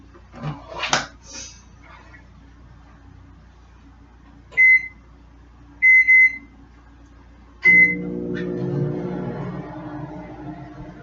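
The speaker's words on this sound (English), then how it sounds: "this is also a pretty low wattage microwave" Short clatters, then a low-wattage microwave oven beeps several times and starts up with a low steady hum that continues to the end.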